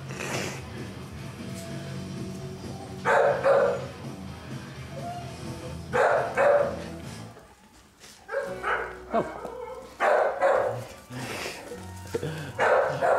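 A dog barks in a few short bursts at close range, separated by pauses, with people talking quietly in between.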